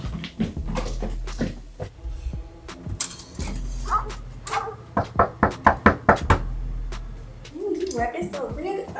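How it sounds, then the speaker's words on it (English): Knocking on a door, a rapid series of loud sharp raps building in the middle, mixed with a dog's yips and whimpers and people talking around it. "is he knocking on the door?"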